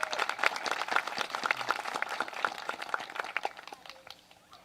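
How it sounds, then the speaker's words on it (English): Parents clapping at a second grade moving-up school ceremony, a steady patter of many hands at moderate distance that thins out and fades toward the end. "Why don't you give yourselves a big round of applause."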